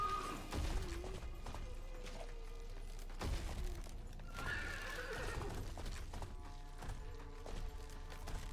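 A horse neighs loudly in the video game Wuchang: Fallen Feathers, with whinnies and hoof clatter amid ambient game sounds, heard nearly alone.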